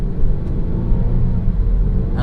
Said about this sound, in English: Now, this car does sound pretty good.